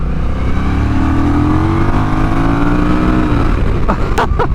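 A Honda Rebel CMX1100 cruiser motorcycle accelerates hard, its engine note rising steadily in pitch, loud and close, ending in a few sharp gear-shift bursts.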